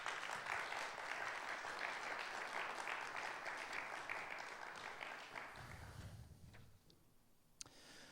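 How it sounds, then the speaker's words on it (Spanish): A church congregation claps for the Lord during a sermon, a dense wash of steady applause that fades out toward the end, leaving a few scattered claps in a quieter room. "Dale un aplauso al Señor."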